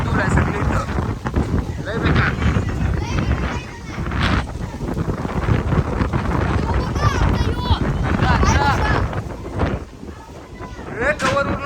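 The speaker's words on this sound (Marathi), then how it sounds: "इथं बघा कसला वारा आहे" Strong wind from a sudden dust storm buffets loudly and roughly throughout, gusting in waves, with a voice talking over it.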